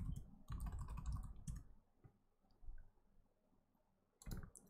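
Fingers type a command on a computer keyboard while starting an OpenShift CodeReady Containers cluster, heard as quiet clustered key clicks in two bursts, one longer early flurry and a short one at the end, with no voices.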